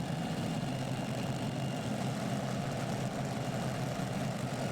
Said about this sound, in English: this is beautiful noise from Denmark with the supercharged Keith Black V8